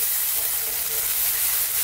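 Quick tomato sauce for eggplant parmigiana bubbling in a pan, a dense, steady hiss of simmering and sizzling that stays loud and even throughout, with no talk.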